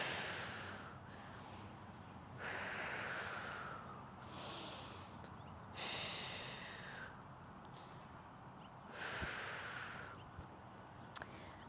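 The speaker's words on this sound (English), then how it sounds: "And breathe here for 5 breaths." Slow, deep yoga breaths during a held pose in an Ashtanga Vinyasa primary series practice, several long airy inhales and exhales at close range with quiet pauses between, no talking.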